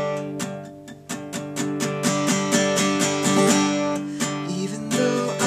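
Guitar strummed in a quick, choppy palm-muted rhythm of mostly down strokes, with the occasional ringing up strum, played alone.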